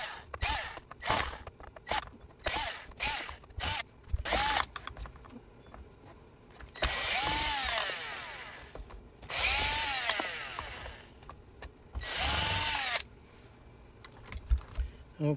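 A power screwdriver removes five Phillips head screws from an Oreck vacuum, with short whirring bursts and three longer runs separated by clicks and handling noises.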